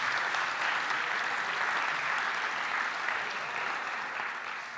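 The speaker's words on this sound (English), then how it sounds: "give him a round of applause as he comes up onto the stage" A room full of people applauds as a young rugby fan walks up onto the stage, a thick, sustained wash of clapping that stays loud and steady throughout before easing slightly at the end.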